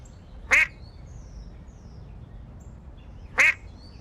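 A duck gives two short, sharp quacks, well apart and moderately close, each one alone against quiet background hiss.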